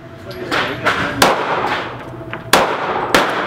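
Gunfire at a shooting practice range: several loud, sharp shots at uneven intervals over continuous background noise and room reverberation, with faint voices in between.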